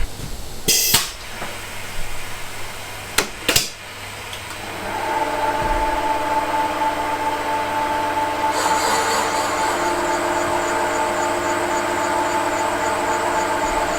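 A machine tool cuts into a classic Fiat 500 engine head. A few sharp knocks are followed by a steady, even grinding hum that carries on for several seconds, later joined by a brighter ringing tone.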